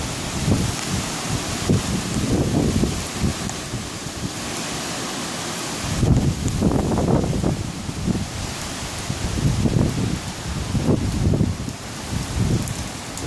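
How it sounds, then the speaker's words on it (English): Strong Hurricane Matthew winds gust north of Daytona Beach, Florida, buffeting the microphone in repeated rumbling surges over a constant hiss of rain and stirred foliage. "Winds are really starting to pick up."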